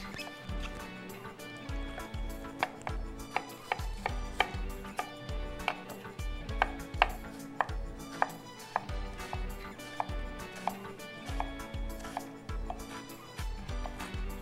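Knife chopping onions on a cutting board for a fish curry base, a rapid series of sharp taps in irregular bursts, close and fairly quiet, with a faint background of kitchen sounds.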